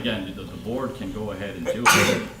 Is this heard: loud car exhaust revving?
no